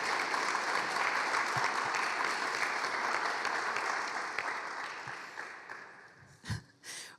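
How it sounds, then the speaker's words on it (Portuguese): A church congregation applauds during a celebration service, dense sustained clapping filling the room before thinning out toward the end with a few scattered claps. "Salva de palmas, gente."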